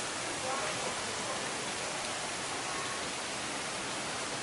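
Steady rain falls by a hotel swimming pool at a safari lodge in Bogor, a soft, even hiss of drops that holds constant and faint throughout with no other sounds.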